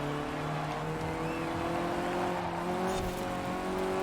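Rival classic rally cars race close behind in Forza Horizon 4, several engines droning and whining together in sustained tones that rise and fall steadily, no talk.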